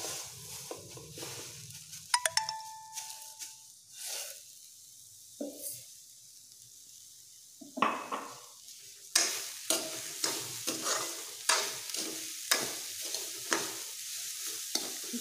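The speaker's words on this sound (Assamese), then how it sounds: "এতিয়া ভাজি থাকিম" Grated coconut and sugar for coconut ladoo stirred in a pan, faint soft sizzle under repeated scraping strokes of a spatula, with a few metallic clinks early on.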